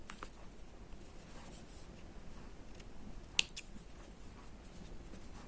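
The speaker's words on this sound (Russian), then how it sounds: "И вот эту ниточку можно вот так вот покороче обрезать." Scissors snip yarn thread on a small crocheted bull keychain, a few quiet close cuts with one sharp click near the middle over faint background hiss.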